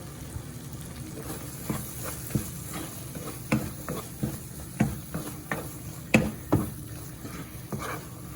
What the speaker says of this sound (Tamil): தேங்காய் போட்டால் ஒரு மூன்று நிமிஷம் கிளறி போட்டு எடுத்தால் போதும்